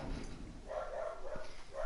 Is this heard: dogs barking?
yes